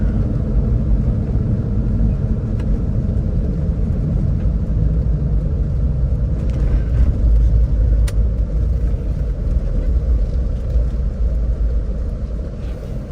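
A 2010 Land Rover Defender 110 TDCi XS station wagon drives along, its diesel engine and road noise forming a steady, loud low rumble throughout with no talk over it.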